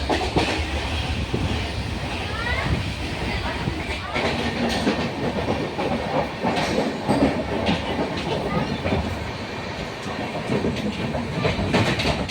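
The 13151 Jammu Tawi Express rolls along the rails, a continuous rumbling clatter with rhythmic wheel clicks heard from inside the carriage, with faint talk in the background.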